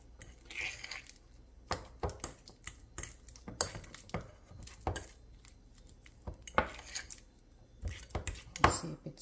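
Soft cream cheese mixed with sugar and vanilla in a bowl gives irregular close tapping and scraping clicks as it is stirred, with no one speaking over it.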